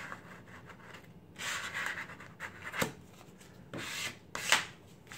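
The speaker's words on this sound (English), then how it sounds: "just squeegee the letters on" Vinyl mailbox letters pressed down with a flat-edged squeegee, a series of faint close rubbing and scraping strokes with brief sharper swipes between quiet gaps.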